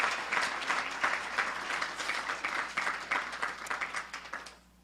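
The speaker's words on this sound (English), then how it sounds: "You can clap." Applause from an audience at an annual charity celebration, a dense, even patter of many hands clapping that holds steady for several seconds and then quickly fades out.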